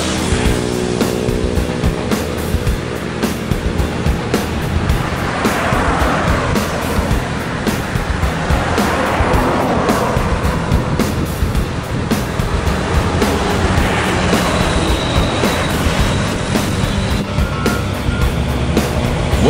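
An ANS intercity bus from Jakarta arriving at Solok: a continuous loud roar of a large vehicle engine and road noise, swelling as it passes close, with rumbling traffic and no talking.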